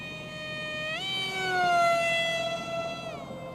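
An NAMC MiG-35 RC model jet flying at about half throttle, its electric whine holding steady, then climbing and shifting in pitch as it passes, fairly close and clear with no talk over it.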